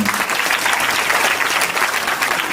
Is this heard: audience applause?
yes